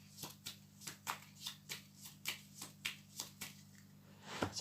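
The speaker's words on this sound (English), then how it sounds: "So shuffle now anyway." A Yu-Gi-Oh card deck is shuffled by hand in a quiet room, a series of about a dozen crisp, evenly spaced riffling slaps, close and clear with no talk over them.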